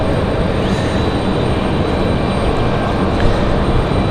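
An American Airlines A321 taxiing at Raleigh-Durham airport gives a steady, broadband engine rumble at moderate distance, continuous and unbroken with no talk over it.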